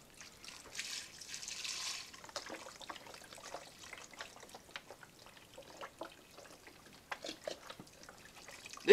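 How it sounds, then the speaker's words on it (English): Eight cups of chicken broth poured into a pot, a continuous splashing, trickling stream of liquid up close, followed by drips and small splatters. "we're going to take 8 cups of chicken broth, and we are going to pour it on in"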